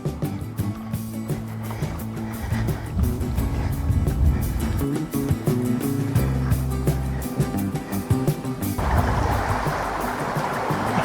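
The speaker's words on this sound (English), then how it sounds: "The Dickler is a lovely spring-fed wild trout stream that flows for just 12 kilometres" The River Dickler, a small spring-fed wild trout stream in the Cotswolds in autumn, rushes steadily with a loud, continuous broadband wash, close by, heard while crossing over it.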